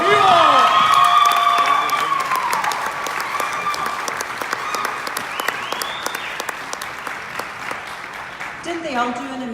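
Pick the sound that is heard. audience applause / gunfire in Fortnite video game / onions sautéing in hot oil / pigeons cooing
audience applause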